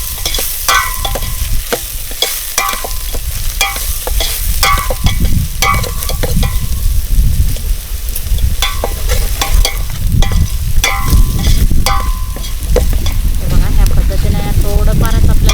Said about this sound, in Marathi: तर आपण यामध्ये घालायचं आपल्याला आलं लसूण आणि चांगलं असं आपण याला परतून घेऊया.